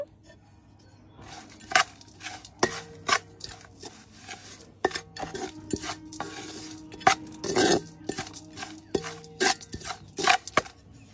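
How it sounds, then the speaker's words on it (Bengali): Plant fertilizer for a bougainvillea being mixed by hand in a container, a series of irregular gritty scrapes and rustling bursts with occasional clinks, close and fairly loud, no talking. "তো এবার আমি এই খাবারটাকে পুরো ভালোভাবে মিশিয়ে নেব।"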